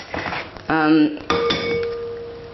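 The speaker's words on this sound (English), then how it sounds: "the first thing is separating the egg whites from the yolks" Eggs are cracked and separated into a bowl in a kitchen: a few sharp clinks and a ringing knock against the bowl, followed by a soft lingering metallic tone, close and fairly quiet.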